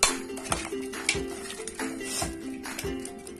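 A metal ladle clinks and scrapes against a pot while chickpea biryani with cooked kabuli chana is stirred, a series of sharp metallic taps at an uneven rhythm, close and clear, with no talk.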